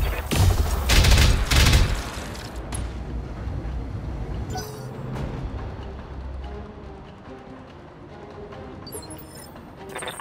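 Weapon fire in BattleTech, a mech combat game: a dense volley of heavy booming shots up front, then rumbling explosions and impacts fading into a lower, continuous roar.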